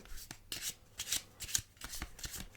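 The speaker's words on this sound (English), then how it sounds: "we need to give this deck a real good shuffle" A deck of playing cards being shuffled up close for solitaire, with a series of crisp riffling bursts every half second or so, soft and intimate with no talking.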